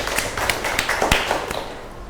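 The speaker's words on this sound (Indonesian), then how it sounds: "Tepuk tangan dulu buat kelompok 2." A small scattering of claps from a fifth-grade elementary class in an Indonesian classroom, irregular and fairly close, lasting about two seconds.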